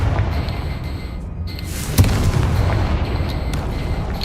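A Confringo fire spell blast in Hogwarts Legacy, a single sharp boom about midway that rolls into a sustained low rumble over steady game ambience.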